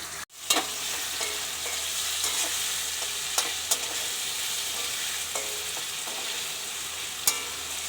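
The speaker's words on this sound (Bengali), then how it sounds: "দেবো 1 চামচ জিরের গুঁড়ো," Ground cumin and green chili paste fry in a hot pan for a Bengali fish curry, giving a continuous close sizzle with scattered sharp crackles and pops and no talking.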